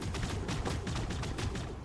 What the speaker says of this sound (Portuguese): Ai, caramba, tô atirando em mim